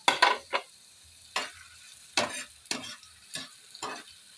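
Tomatoes being stirred in a frying pan, with a series of separate scraping strokes over a quiet, faint sizzle; the strokes come irregularly, about eight of them, and are fairly close.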